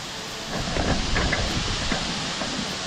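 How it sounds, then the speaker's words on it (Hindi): Kendai waterfall in Korba, Chhattisgarh, a 75-foot fall, roars as a steady, broad rushing wash of water from nearby, loud and unbroken throughout. "ये रहा अपना केंदई का भाई वाटरफॉल"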